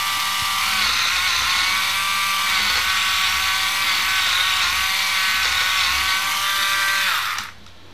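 A Roto Clipper electric nail clipper runs steadily on nails, a close, continuous high-pitched whirring buzz with a slight wavering pitch for several seconds before switching off near the end.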